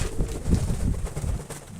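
Pigeons cooing at a loft, low soft rolling coos repeating close by, with faint background noise and no talk.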